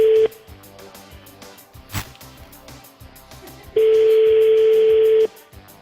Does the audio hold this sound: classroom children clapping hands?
no